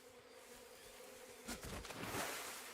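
Bees buzz faintly in Metal Gear Solid Delta, a thin hum that swells midway and stays soft and distant to the end.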